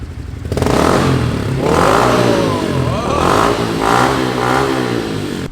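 A warmed-up stock motorcycle engine is revved hard several times in a row, the loud, rough exhaust note rising and falling up close with no talking.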